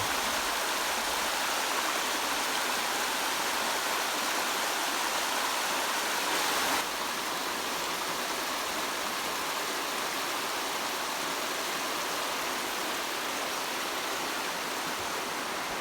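Tischer Creek in Duluth, Minnesota rushes and spills over a small waterfall, a dense, continuous hiss of flowing water that stays steady and fairly loud throughout with no voices.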